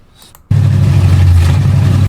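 Small block Chevy V8 with a freshly rebuilt carburetor fires up abruptly and runs loud and close with a rough, rumbling idle.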